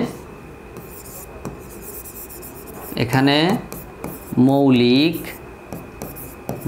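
Pen or pencil scratching on paper while working out prime factors in an eighth-grade maths lesson, a soft continuous rasp with two brief stretches of a voice talking over it.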